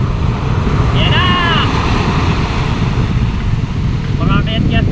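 Ocean waves roll and crash around a boat at sea in a loud, constant wash of water and wind rumble, with brief voices calling out above the noise.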